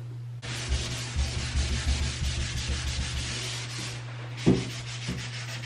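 A power drill with a brush attachment scrubs a filthy bathtub coated with Comet cleanser. A steady, close motor hum runs under a continuous rough, rhythmic scrubbing sound, with one brief heavier scrape near the end.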